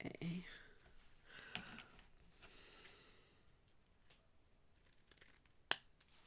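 Scissors snipping through paper for a Christmas craft, a few soft crisp cuts under quiet whispered talk, ending in one sharp close snip near the end.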